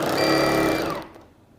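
A sewing machine runs a box-stitch test pattern to check a faulty encoder, producing a steady, rapid mechanical stitching hum up close for about a second before it winds down and stops.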